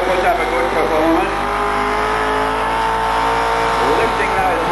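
A pulling tractor built on an old Twin City rear end and powered by a 350 Chev engine roars steadily and loudly at a tractor pull, its engine drone continuous throughout with a commentator's voice running over it.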